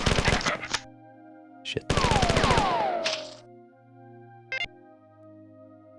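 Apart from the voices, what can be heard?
gunners firing, from the video game Marathon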